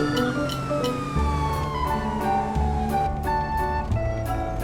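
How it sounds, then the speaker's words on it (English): A police car siren wails continuously, loud and steady, with a rhythmic warbling pattern and a pulsing beat running underneath. "police car, police car,"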